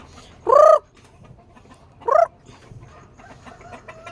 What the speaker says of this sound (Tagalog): mapumunta yung mga manok natin